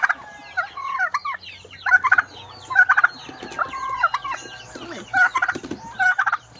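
A pet tom turkey gobbles over and over, sending out loud, close, rapid rattling bursts at irregular intervals, with quieter clucks between them and nobody speaking.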